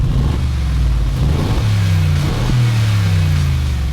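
A Mercedes-Benz G550 with a 4-liter bi-turbo V8 and 7-speed transmission accelerates hard, its loud, close engine note climbing and shifting through gears in a steady, uninterrupted roar.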